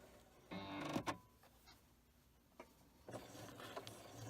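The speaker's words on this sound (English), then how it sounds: "I'm just going to do a little practice stitch." A Singer Quantum Stylist 9960 sewing machine runs a short practice straight stitch, a quiet close whirring in two brief bursts with a pause between.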